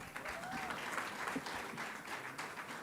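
Audience at a running club awards ceremony applauding, a brief sustained round of clapping at moderate volume with a faint crowd murmur underneath.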